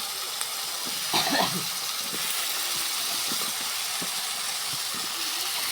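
Cut vegetables, including eggplant, hit hot spiced oil with a steady, hissing sizzle, plus a few soft clunks near the start.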